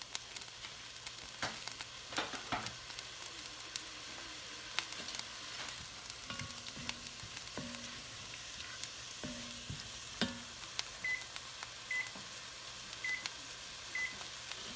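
Butter sizzles softly in a pan while making bacon, shrimp and corn chowder, a steady fine crackle punctuated by scattered clicks and a few faint electronic beeps.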